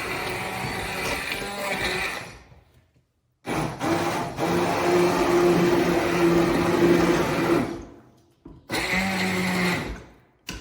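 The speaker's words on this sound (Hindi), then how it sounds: "अगर आपके पास ये चीज़ है हैंड ब्लेंडर तो आप इसे कर सकते हैं।" A hand blender whirs loudly in three bursts, cutting out briefly between them, its motor pitch wavering as it churns a thick tomato paste for ketchup.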